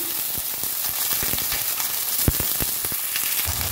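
Chopped onion, capsicum, carrot and cauliflower frying in a pan, a dense close sizzle with crackling pops scattered throughout and a louder spit near the middle, steady and unbroken.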